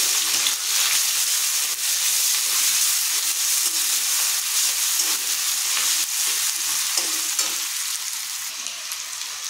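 Ginger and garlic sizzle steadily in a hot pan with oil, a bright, close frying hiss that continues throughout with occasional stirring scrapes.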